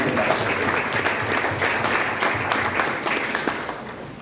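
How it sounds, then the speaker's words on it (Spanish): Audience applause at a book presentation, welcoming the author in the room. Many hands clap steadily in a lively burst that stays dense throughout and tapers slightly at the end. "para que pido un fuerte aplauso."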